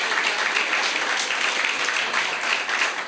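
A live storytelling-show audience gives a steady, full round of applause, many hands clapping together at an even level with no talk over it.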